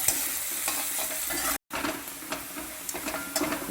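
Sliced onions with curry leaves sizzle steadily in hot oil in a pan, a constant broadband frying hiss broken by soft stirring scrapes and one very brief gap, close and moderately loud with no talking.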